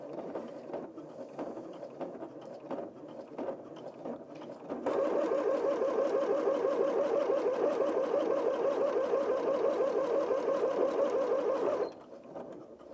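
A Janome M50 QDC sewing machine stitching through eight layers of folded fabric, a steady rapid mechanical whir and needle patter running for about seven seconds before stopping, close and moderately loud.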